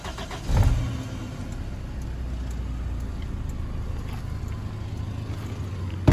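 Engine of a used car running steadily at idle after a brief louder burst near the start, a close, continuous low rumble with no talking.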